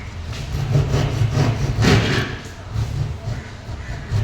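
A hacksaw frame cuts into a plaster of Paris ceiling during speaker fitting, making rough, scratchy, fairly loud strokes in an uneven rhythm close to the listener.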